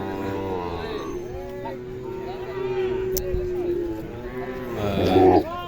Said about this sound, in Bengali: আমি শাহিওয়ালের বকনা এবং সার গরু যেগুলো সেগুলো দেখানোর চেষ্টা করতেছি